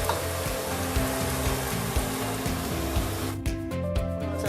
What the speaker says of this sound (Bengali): আমি একটু পেঁয়াজটাকে একটু ভাজবো ব্রাউন করে।